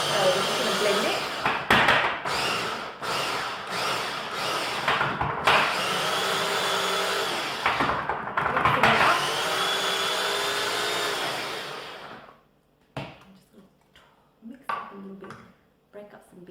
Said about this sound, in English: So we're just going to blend it.